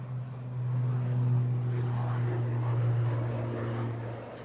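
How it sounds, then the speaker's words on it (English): A Cessna light aircraft at Manchester Airport, its steady propeller engine drone humming loud and continuous, swelling slightly then easing off. "we'll just call it a Cessna."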